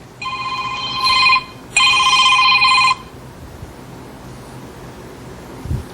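A mobile phone ringtone sounds in two loud bursts of repeated electronic tones, the second longer than the first, then stops, leaving quiet room hum.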